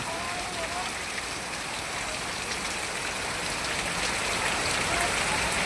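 Heavy rain pours steadily during a storm, a dense, continuous hiss that builds slightly louder toward the end, with a faint voice murmuring underneath.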